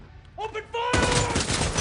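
A loud barrage of gunfire erupts in a shootout scene, dense overlapping shots following a brief shouted command and short tonal sounds.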